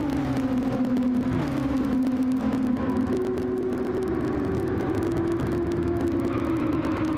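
Racing video game cars run in traffic, engines droning and shifting pitch as they rev and ease off, a steady loud whine with a low rumble beneath and no voices.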